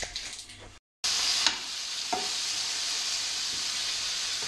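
Beef mince hits a hot pan and sets off a sudden, close, steady sizzle that hisses on evenly after a brief cut, with a few faint stirring knocks.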